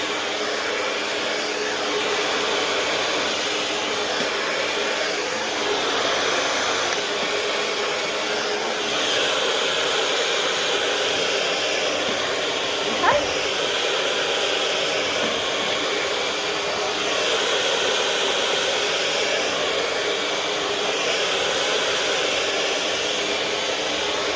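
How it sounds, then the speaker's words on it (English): A hair dryer blows steadily for the whole stretch: a loud, continuous airy whoosh at an even level, with only one tiny click partway through and no voices. "there's a little cool shot button on my dryer, or you can turn it down to cool"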